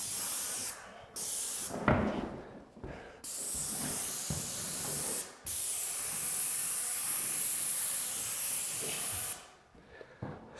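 A paint sprayer hisses along a baseboard near a door jamb in long sustained bursts broken by brief pauses, loud and close with a steady airy rush.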